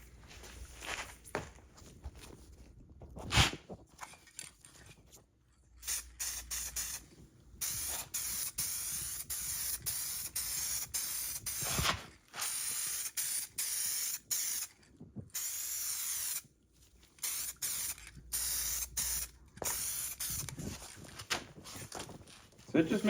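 SEM Landau Black color coat is sprayed from an aerosol can onto plastic headlight surrounds during a car interior restoration, in repeated close hissing bursts separated by short gaps.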